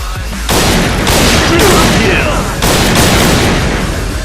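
Sniper gunfire in a shooting video game, loud sustained bursts of shots and booms with a brief pause, then another heavy volley, filling the whole stretch.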